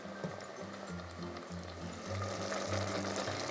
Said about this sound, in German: Tomaten und Champignons schmurgeln im Topf etwa 15 Minuten.